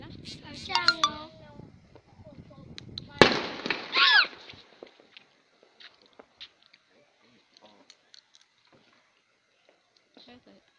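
Firecrackers at a Vietnamese Lunar New Year celebration in 2019 go off at a distance: voices come first, then a sharp burst and crackling pops, thinning out into sparse, faint scattered cracks.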